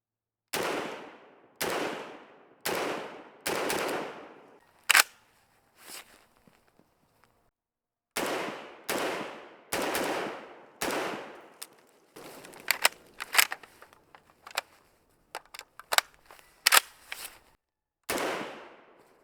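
A PTR PDWR, an HK51-style short rifle, fires a string of loud, sharp single shots outdoors, each cracking nearby with a ringing tail, followed by a quicker cluster of rapid shots and clattering, then a final loud report.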